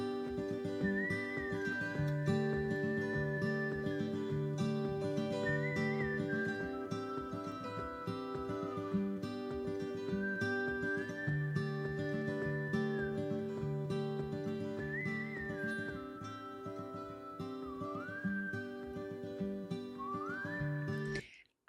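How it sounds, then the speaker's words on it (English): A melodic whistled line drifts over a full band in a song, rising in short phrases and repeating several times across a steady, loud musical backing. "Oh, and the whistling."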